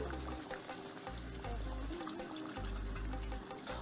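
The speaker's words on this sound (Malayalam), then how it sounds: "ഈ സമയം നമ്മൾ തേങ്ങയുടെ ഒന്നാം പാൽ ഒഴിച്ചു കൊടുക്കും" First-press coconut milk pours into a pan of ada pradhaman, a soft, close liquid stream that starts and stops in a few short bursts, with no voices.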